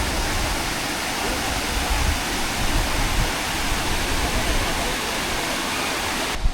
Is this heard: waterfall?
yes